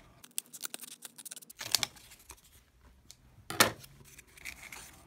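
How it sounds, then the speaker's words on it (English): Sharp snips of scissors cutting away excess cardboard tube material for a rocket motor mold, with two bright crisp cuts standing out among smaller clicks and rustles, close and fairly quiet. "just cut off the excess material"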